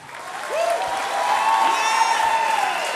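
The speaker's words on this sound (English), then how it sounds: "mesdames et messieurs, sous vos applaudissements" Applause at a church worship gathering, with the crowd's clapping swelling after a quiet start and holding full. A sustained tone runs beneath the clapping.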